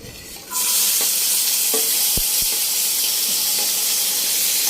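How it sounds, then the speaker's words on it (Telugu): Chopped veld grape (nalleru) stalks drop into a hot pan and fry with a loud, steady sizzle that starts abruptly and carries on, with a few light clinks of stirring. "రెండు కాళ్ళు తీసుకున్నాను నేను నల్లేరు కాళ్ళు ఇవి వేయించుకున్నాను"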